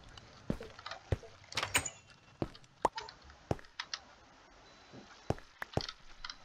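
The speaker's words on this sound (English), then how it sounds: "Open the door." A wooden door clicks and creaks open inside a house in Minecraft, with a series of sharp, separate knocks and clacks spread over several seconds amid faint game ambience.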